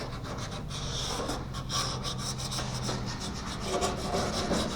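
Close, steady rubbing and rasping as a hand works sandpaper back and forth across a wooden surface, continuous with no talking.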